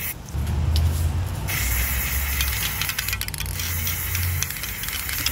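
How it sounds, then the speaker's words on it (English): Silver spray paint hisses from an aerosol can in a steady, close, continuous spray lasting several seconds, with a low rumble underneath. "I wanted to spray paint this silver, so that's what I'm gonna do right now"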